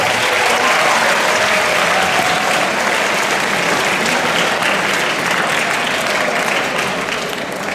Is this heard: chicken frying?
no